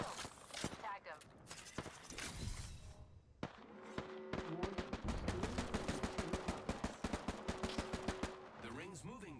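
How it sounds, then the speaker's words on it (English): Rapid video game gunfire in a battle royale match, with bursts of automatic shots rattling in fast, even rhythm, some loud and close, others further off, with a voice talking in places. "People shooting from across."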